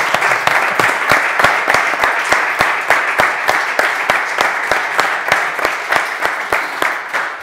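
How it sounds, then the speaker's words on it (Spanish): Steady audience applause for speakers at the end of a panel debate on low-emission zones, dense, even clapping throughout that fades slightly near the close. "Estos señores se merecen por lo menos un aplauso, ¿no?"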